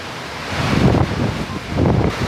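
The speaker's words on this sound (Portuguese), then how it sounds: "Olha o vento." Strong wind roars through a street as a heavy rainstorm hits and cars crawl slowly past. It is a steady, loud rush of gusting noise that swells in the middle, with no voices over it.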